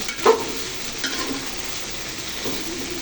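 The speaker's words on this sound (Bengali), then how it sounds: "এই যে ভাজা কাশ্মীরিগুলো রসের মাঝে ছেড়ে দিলাম" Fried Kashmiri sweets are stirred in sugar syrup, with a sharp utensil clack at the start, then soft scraping and a low wet sizzle.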